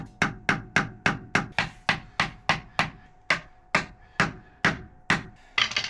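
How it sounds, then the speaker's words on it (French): A hammer strikes a screwdriver to drive it through a motorcycle oil filter on a Honda CB500, with about fifteen sharp, loud metallic blows in a steady rhythm, slowing slightly near the end. "Tu prends un tournevis et un marteau."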